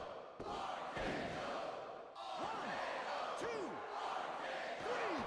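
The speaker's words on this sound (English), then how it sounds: "Crowd chanting for an RKO" Crowd chanting in the wrestling video game WWE Day of Reckoning 2, a loud arena roar with rhythmic chants and repeated swooping game effects, a commentator talking over it.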